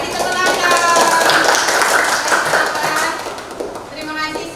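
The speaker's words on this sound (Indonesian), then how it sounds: "Kasih tepuk tangan." A classroom of students clapping hands together in a quick burst at the end of a biology lesson, loud and close with mixed voices.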